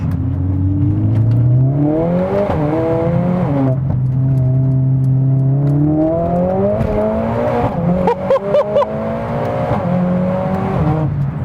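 A loud Mercedes-AMG A45 S engine, tuned past 500 bhp, revs hard and climbs in pitch, drops briefly at each gear shift, then pulls again, close and without voices.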